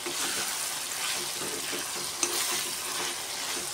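Chopped green chili and bell pepper sizzle and crackle in a hot pan, a steady bright frying hiss with faint stirring scrapes, close and continuous.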